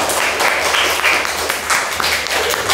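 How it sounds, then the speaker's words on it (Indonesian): Applause from a classroom of students after a group presentation, a steady wash of clapping hands lasting a few seconds, fairly loud and filling the room. "kita berikan tepuk tangan"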